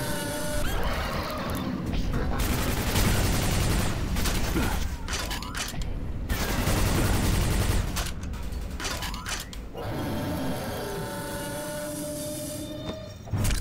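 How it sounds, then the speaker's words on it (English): Hyper Blaster fire in the Quake 4 shooter: dense, loud, rapid bursts of energy-weapon shots with a few brief pauses, over continuous game noise. "I really like the Hyper Blaster in this game."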